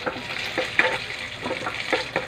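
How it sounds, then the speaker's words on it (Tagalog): Ground meat sautéing in a pan, with a steady sizzle and soft rhythmic scrapes of stirring repeating about every half second, close up and without talk. "Meron ako ditong giniling na ginigisa."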